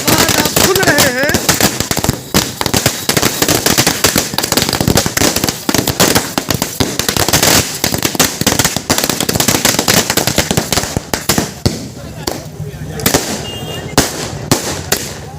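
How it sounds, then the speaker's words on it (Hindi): A long, dense barrage of firecrackers crackles and pops continuously outdoors near a home, celebrating a man's return after 75 days in jail; loud, rapid bursts with voices mixed in among the blasts. "ये जो आपने अभी पटाखे की आवाज़ सुनी है या कंटिन्यू सुन रहे हैं"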